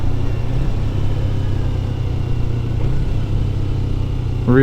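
A motorcycle engine rumbles steadily while being ridden, a low continuous drone with brief shifts in pitch, close and loud, ending with a quick rising rev.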